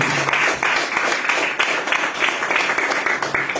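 A church congregation applauds for Jesus during a Spanish-language service. Loud, close, dense clapping runs continuously with steady rhythmic pulses throughout.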